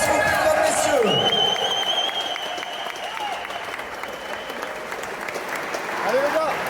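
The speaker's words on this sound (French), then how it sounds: "Un tonnerre d'applaudissements pour eux, s'il vous plaît, mesdames, messieurs." Crowd applause at an MMA League Elite event, France versus Ireland, a broad steady clapping roar with a few whistles and tonal sweeps over it, swelling again near the end.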